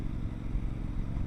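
Honda NC700X motorcycle cruising at about 40 mph on a rough road, a steady close low engine drone mixed with rumbling wind and road noise.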